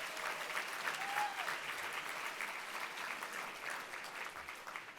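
Steady applause from dinner guests at an evening dinner event, a dense, even wash of clapping filling the room for the whole stretch at moderate distance.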